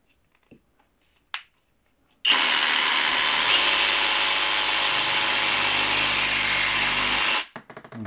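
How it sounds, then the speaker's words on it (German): A DCK 20V brushless reciprocating saw cuts through surface-mounted cable conduit, a sharp click followed by about five seconds of loud, steady buzzing that stops abruptly, with a few faint rattles afterward. "Und das geht nämlich auch wunderbar mit so einer Säbelsäge abzutrennen."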